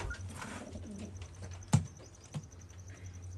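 Domestic pigeons of a fancier's flock coo in low, rolling bursts nearby, with a sharp flutter or tap cutting in briefly midway; no talking.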